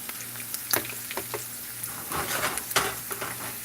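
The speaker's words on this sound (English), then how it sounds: "I love the smell of sauteing onions" Onions sautéing in a pan for a squirrel dish, a steady soft sizzle under intermittent scrapes and stirring clinks from a utensil, fairly close and moderate in level.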